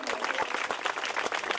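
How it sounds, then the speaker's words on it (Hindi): Crowd applause at a cricket prize ceremony for the Habibhauad Cup 2025, a steady patter of many hands clapping together, close and fairly loud, with some voices mixed in. "एक बेर जोरदार ताली बजा लिया"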